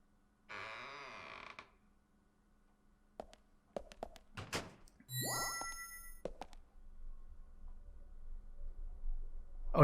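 Item notification chime in the video game Deadly Premonition, a bright ringing ding amid creaks, thunks and other game sounds, with one clear tonal chime rising then holding briefly.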